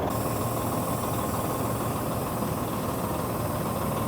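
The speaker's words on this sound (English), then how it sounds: "So we're gonna slide our 5th wheel forward." A semi truck's diesel engine idles steadily while its fifth wheel is slid forward, a constant low rumble and vibration with no distinct clunk standing out, heard close throughout.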